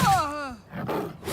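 A lion in Oblivion Remastered lets out a loud, deep roar that sweeps downward and fades during a fight with a bandit, a horse and a shade, with a brief guttural rumble following.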